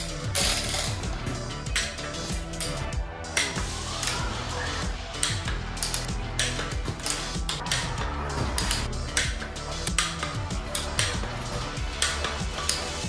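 A ratchet tightens rocker arm bolts on an LQ4 engine, giving loud, rapid mechanical clicking that runs almost without a break, close to the listener.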